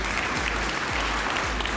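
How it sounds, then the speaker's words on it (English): An audience at an award ceremony applauds steadily as an awardee comes forward, many hands clapping evenly over a low, pulsing hum in the hall. "Can we give her a round of applause as she comes forward, please?"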